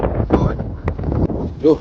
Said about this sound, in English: and today it's so windy.